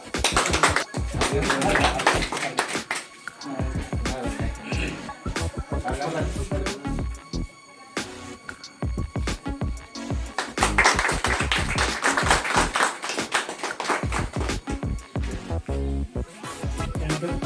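An audience claps throughout a felicitation ceremony at a Zilla Parishad primary school, with dense, steady applause rising and falling and a voice briefly over it.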